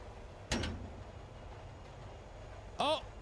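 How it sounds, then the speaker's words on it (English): A door in a train video game opens with a short clack, followed a couple of seconds later by a brief mechanical whirring slide, both faint against a quiet background. "The door is now open."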